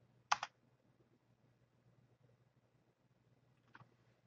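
Brief burst of computer keyboard keystrokes while a web address is typed, a quick cluster of clicks near the start and a softer pair later, close and alone over faint background hum.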